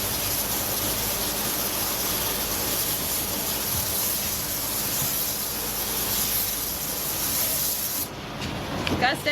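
A spray gun hisses steadily and loudly as a tack coat of paint goes onto a Dodge Charger, the spray cutting off near the end with a few short knocks after.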